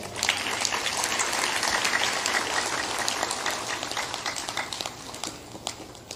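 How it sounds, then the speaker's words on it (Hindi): A crowd claps through a religious discourse in Hindi, a dense, steady wash of applause that stays loud and thins slightly toward the end. "बजा सकते हो ताली, कोई बात नहीं"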